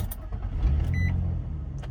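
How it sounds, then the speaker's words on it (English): An Infiniti G35 engine cranks and catches after a throttle body replacement, giving a short starting whir that settles into a steady low idle, with a brief electronic chime over it and no talking. "And now we can start the car"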